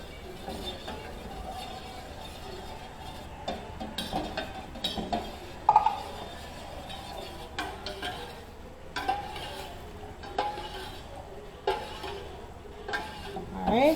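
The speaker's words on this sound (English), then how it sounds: "I'm gonna just give it a stir" A spoon stirs a warm cheesy garlic mixture in a pot, making quiet, irregular scrapes and light clinks against the sides, with a few sharper taps.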